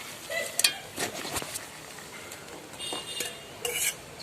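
Chicken pieces tossed into a pan with ginger-garlic paste and lemon juice for chicken pickle, then stirred: scraping utensil strokes and clinks against the pot, a faint sizzle underneath, close and fairly quiet.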